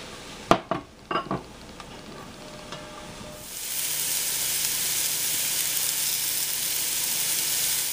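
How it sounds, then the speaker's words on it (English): Carrots tumble into a hot stew pot with onions and pearl onions, a few clattering knocks at first, then a loud, steady hissing sizzle that fills in and holds. "I'm adding in also the carrots."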